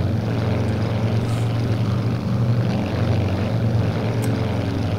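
An aircraft engine in the video game Strike Fighters 2: Vietnam drones steadily and loudly from cockpit perspective, a constant low rumble with no talk over it.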